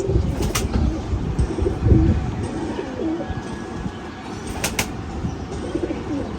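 Pigeons cooing in low, rolling murmurs close by, with a couple of sharp clicks and a faint background hum.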